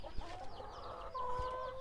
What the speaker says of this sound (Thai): นี่ไก่ไข่ ไก่ไข่เก่าโตครับ